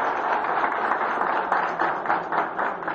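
Steady applause fills a Brazilian parliamentary committee session in the Câmara, a dense, even patter of many hands clapping for a speaker, sustained throughout and without speech.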